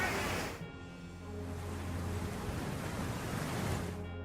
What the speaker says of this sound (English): The waves crashed against the lighthouse in Malta, like a mother protecting her children